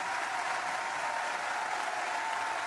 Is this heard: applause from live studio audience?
yes